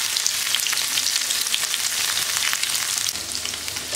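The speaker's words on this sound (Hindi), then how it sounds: "पनीर को फ्राए करेंगे" Paneer cubes frying in hot oil in a kadai, a steady loud crackling sizzle that carries on unbroken, close up and without talk.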